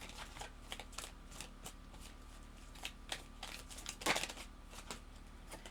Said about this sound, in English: let's pull love cards and then abundance cards